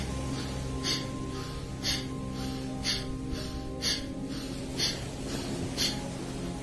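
Forceful pranayama breathing in a morning Kapalabhati routine, with sharp rhythmic breaths about once per second, close and loud, over a faint steady hum.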